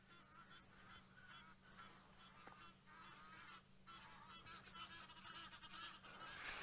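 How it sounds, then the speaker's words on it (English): A flock of Egyptian geese honking as they fly overhead, a dense, continuous chorus of loud, harsh calls that swells toward the end. "Flock of Egyptian geese flying over us. You could probably hear them very loud."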